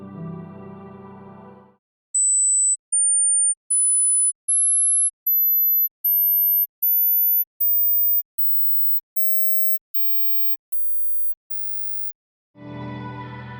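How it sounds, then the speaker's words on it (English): A ladder of eight short pure sine beeps, climbing from 8 kHz to 20 kHz, each a step higher than the last, ends in a very high thin whistle, with talk before and after. "Here's the ladder of tones. It starts at 8 kHz and climbs to 20."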